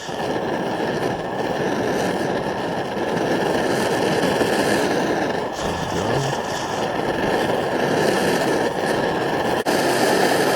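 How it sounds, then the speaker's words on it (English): MSR Dragonfly liquid-fuel camping stove burning, a loud, steady roaring rush that runs without a break, with a slight shift partway through and a faint click near the end. "you can see the stove is making noise"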